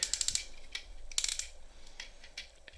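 A Transformers Siege Galaxy Upgrade Optimus Prime figure's joints ratchet as its arm and wrist are worked forward and back, giving a quick series of close, crisp plastic clicks followed by a few scattered, softer clicks.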